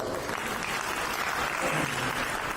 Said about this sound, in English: Give him a good applause.